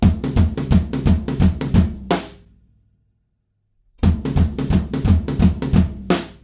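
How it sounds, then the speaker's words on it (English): A fast groove rolls across the toms in two loud, dense bursts of close, booming hits, each ending on an accented stroke, separated by a silent pause. "Then on the last one, we play it on the toms."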